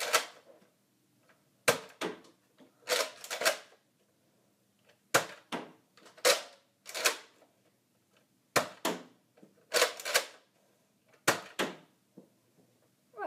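Nerf Retaliator blaster firing darts in a quiet room, about a dozen sharp snapping shots in loose pairs and singles, each with a short priming clack.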